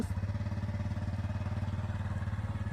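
A motorbike ridden by Ploy runs at a steady mid-pitched engine rumble with a fast regular throb, close and continuous, with no talking.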